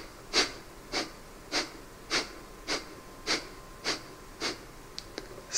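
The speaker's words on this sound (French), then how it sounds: "nous avons la respiration Kapalabhati, qui est appelée aussi la respiration qui fait briller le crâne" Kapalabhati yoga breathing produces nine sharp, forceful nasal exhalations at an even pace of roughly one every half second, close and clear against a quiet room, followed by a couple of faint sniffs.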